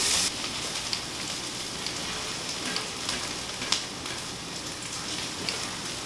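Eggs and onion sauteing in a smoking-hot pan for chilaquiles give a steady, dense crackling sizzle with occasional louder pops, close and continuous throughout.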